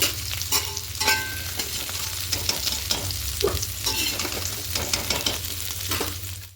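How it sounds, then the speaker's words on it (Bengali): Fried pumpkin pieces being stirred and lifted from a pan, a continuous close sizzle broken by frequent scraping and tossing strokes of the spatula. "কুমড়োগুলো ভাজা হয়ে গেছে এবার কুমড়োগুলোকে তুলে নেব"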